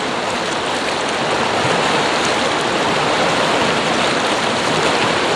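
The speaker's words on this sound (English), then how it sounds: "I'll usually start by giving my face and head a rinse because I get pretty sweaty every day" Water pours and splashes steadily and loudly while someone rinses their face and head, a continuous rushing wash with no pauses.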